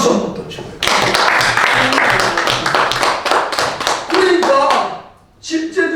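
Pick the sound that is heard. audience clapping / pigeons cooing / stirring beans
audience clapping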